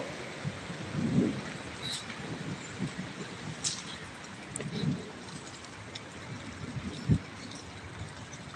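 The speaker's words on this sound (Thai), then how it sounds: "ฝนตกแซ่ๆอีกแล้" Steady heavy rain pours down over an evening market with a broad hiss, joined by a few dull low rumbles and occasional brief spatters.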